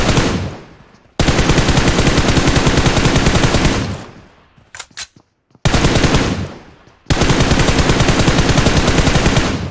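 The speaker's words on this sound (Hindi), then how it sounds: "मैं फ्री फायर दे रहा हूं ताकि वो बंदा डरे।" Automatic-rifle gunfire in PUBG Mobile, loud and close, in long sustained bursts separated by brief pauses and a few scattered single shots.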